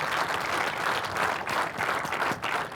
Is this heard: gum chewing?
no